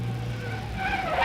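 A car brakes hard in a Hindi action movie scene. A rising tyre squeal builds over a low engine rumble, close and fairly loud, with no voices.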